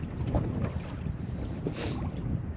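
Strong, freezing northwest wind buffets the microphone on a small fishing boat out on the water, a loud continuous roar with gusting rumble and no talking.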